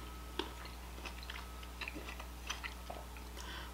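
Grapes being chewed close up, a run of small wet crunches and bites spread across the moment, fairly quiet over a steady low hum, with no talking.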